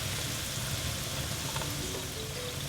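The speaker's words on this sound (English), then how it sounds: "You can let these fry until when they turn golden brown." Plantain fritters frying in hot oil give a steady, close sizzle with faint crackles running through the whole stretch, with no voices.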